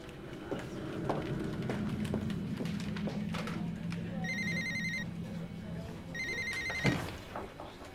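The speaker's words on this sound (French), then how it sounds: "Benoît, il arrête pas d'appeler." A telephone rings twice in short electronic bursts during an indoor TV drama scene, set under continuous conversation and background noise.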